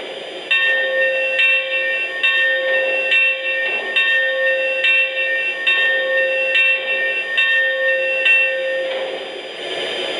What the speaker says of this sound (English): And now the bell.